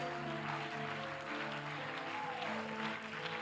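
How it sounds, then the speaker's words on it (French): Applause and acclamation from a congregation at a church service, fairly soft clapping under sustained keyboard-like tones, no clear speech. "je te remercie pour les acclamations que tu fais à ton Dieu"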